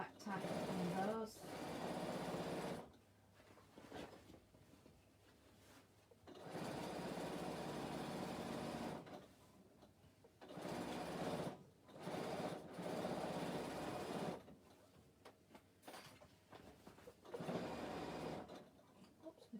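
A sewing machine back tacks across bag handles in repeated runs of rapid stitching, broken by short pauses and stops, with a person talking over and between the bursts.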